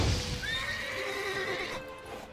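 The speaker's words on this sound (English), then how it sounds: "Whoa there, Roach." The horse Roach in the video game The Witcher 3 gives a clear, close whinny lasting about a second and a half over a steady windy, noisy game background, with faint hoof sounds.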